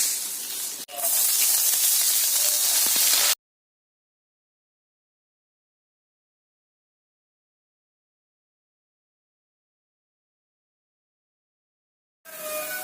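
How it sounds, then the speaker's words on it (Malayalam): Mustard seeds sizzle and hiss in hot oil for a few seconds, a bright close crackle that cuts to silence and briefly returns at the end. "എണ്ണ ചൂടായപ്പോൾ കുറച്ച് കടുക് ഇട്ട് വെച്ച്"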